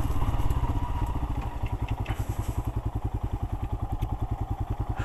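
A Royal Enfield Himalayan 411cc motorcycle engine chugs in a rapid, steady pulsing rhythm, close and loud, with some clattering rattles over rough off-road ground.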